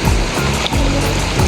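River water rushes steadily where laundry is washed, a loud, close, continuous flow with splashing texture and no talking.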